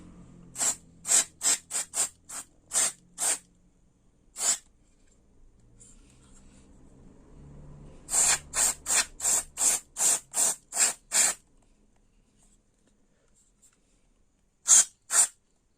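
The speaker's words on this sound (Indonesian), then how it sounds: "Oh, LCD-nya juga saya semprot." Cleaning liquid is sprayed onto a digital motorcycle speedometer with a trigger spray bottle, in several quick bursts of close hissing puffs, then a pause, another rapid series, and two final sprays.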